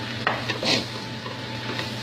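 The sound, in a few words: stirring and sautéing mushrooms with spices in a pan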